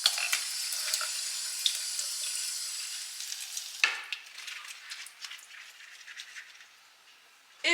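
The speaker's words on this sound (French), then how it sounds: "je le coupe en deux comme ceci et je vais aller le laver pour enlever la terre qui reste dedans" A halved leek rinsed under running tap water to wash out the soil, a steady hissing stream splashing and spattering in a sink, close and continuous, tapering off near the end.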